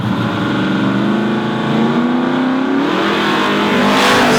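A drag-racing Ford Fairmont roars off the starting line beside another car, engines loud and close, the pitch climbing steadily as they accelerate hard down the strip.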